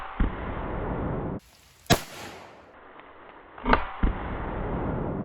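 A 300 Win Mag sniper rifle fires at a mild steel plate outdoors, with a sharp, loud crack followed by a second distant impact-like bang and a fainter pop over a steady background rush.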